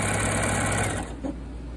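A sewing machine runs close up, stitching quilt binding with a steady motor whir, then slows and stops about a second in, leaving a quieter, faint hum.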